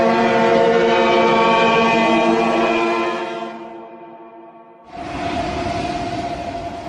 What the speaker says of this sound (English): with every ship's siren at full blast